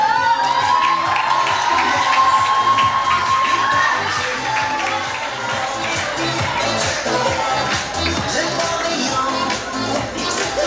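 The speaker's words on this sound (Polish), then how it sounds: "Gorące brawa." An audience at a Women's Day school event breaks into loud, sustained applause mixed with cheering and children's shouts, a dense continuous roar from a large crowd filling the whole stretch.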